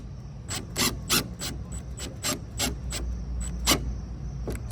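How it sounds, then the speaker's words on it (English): Screws being driven into a part of a Dodge Challenger Scat Pack 392, heard as a series of short, sharp rasping bursts at an uneven pace, close and fairly quiet. "I'm gonna screw this right here."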